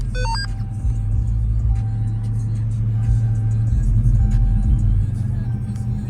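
A car passes on a country roadside, its engine rumble rising and lingering through the whole stretch before easing off, with faint higher tones over the low drone.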